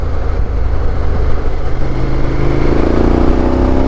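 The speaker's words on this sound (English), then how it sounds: "the noise in 5th gear when you pull out a corner" A motorcycle engine, Triumph or KTM, pulling hard in fifth gear out of a corner, a loud, continuous, close-up roar that rises in pitch as it accelerates, with heavy wind noise.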